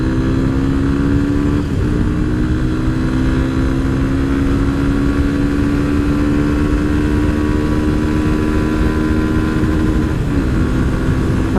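A Yamaha FZ25 250cc motorcycle engine revs hard and holds near its rev limiter, a loud steady high-pitched drone with brief dips as the revs bounce.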